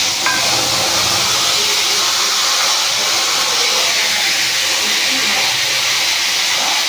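Ground paste of ginger, green chili and cumin sizzles in hot oil for a Bengali vegetarian jhol, a loud, steady broadband hiss that holds throughout.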